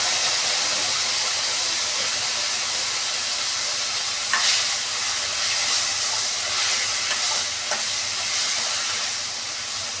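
Tomatoes dropped into green chillies frying in oil, a steady loud hiss of sizzling with a few brief stirring scrapes and spatters, no voices.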